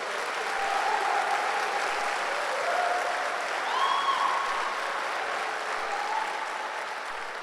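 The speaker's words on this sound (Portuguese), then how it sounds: "Dá um aplauso ao Senhor" A church congregation applauds during a Sunday service, with dense, sustained clapping from many hands filling the room evenly for several seconds before starting to taper off.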